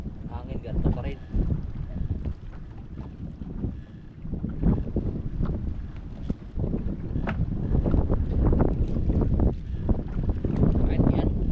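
Gusty wind buffets a fishing boat out on open water, a steady low rumble of microphone wind noise running the whole time with brief sharper gusts and some faint talk mixed in.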